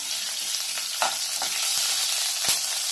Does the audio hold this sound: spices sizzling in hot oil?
yes